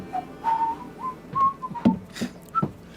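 A voice imitates a dull whistle: a few wavering, breathy whistled tones rising and falling over about three seconds, close and fairly quiet, with no speech.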